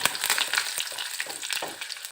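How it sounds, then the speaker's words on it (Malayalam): Mustard seeds crackle and pop in hot oil while tempering a mango pickle, a dense, close run of sharp spits over a steady sizzle that stops abruptly at the end. "അല്പം കടുകിട്ട് പൊട്ടിക്കാം"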